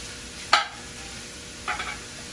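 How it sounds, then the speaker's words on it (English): Vegetables being stirred in a pot with bacon and sausage for red beans: two brief scraping strokes of a spoon, the first sharper, over a faint background hiss. "we're gonna stir it so it don't stick"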